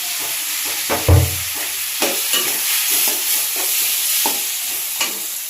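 Cumin paste stirred in a hot wok with fried potato, stem and onion for a small-fish curry, a steady sizzle broken by repeated scraping strokes of the spoon, close and fairly loud with no talk.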